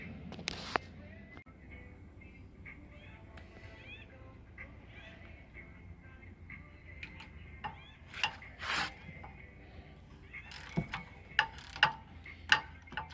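A 9/16 wrench backs out the three bolts holding a Ram power jack. Faint, irregular metallic ticks and clicks sit over a quiet background, with a sharper cluster of clicks near the end and no talking.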